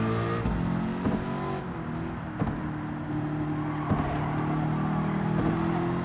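A Ford Focus with a V8 engine swap races in Gran Turismo 7, its engine droning steadily with shifting revs and occasional shift blips, moderately loud and continuous without talk.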